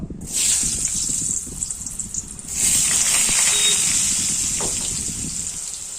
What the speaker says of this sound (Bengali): প্রথমে এই আলুগুলো হালকা একটু ভেজে নেবো